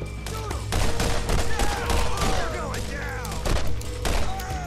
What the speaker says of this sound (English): let's pull out that pistol, show you guys the repeaters